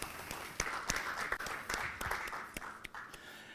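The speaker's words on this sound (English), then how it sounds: "Give yourselves a round of applause." A modest audience applauds, a thin scattering of individual claps with uneven spacing and distinct sharp hits rather than a dense roar, moderately close, tapering off toward the end.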